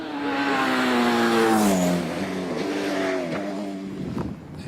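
A Caterham 7 race car blasts up the Harewood hillclimb course in the British Hillclimb Championship, its engine note loud and close, climbing through the revs with quick gear changes before fading slightly at the end.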